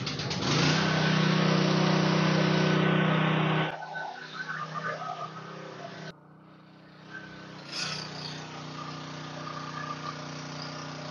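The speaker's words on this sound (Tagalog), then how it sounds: "I-choke at hilahin." A portable generator set to low ampere, started with the choke and a pull cord, runs with a loud steady engine drone that cuts off abruptly, leaving faint background noise and small clicks, with no voices.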